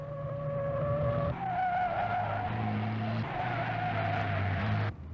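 Car tires in the Forza video game squeal and skid through a corner, with sustained tonal screeching that shifts pitch under engine roar and cuts off abruptly near the end.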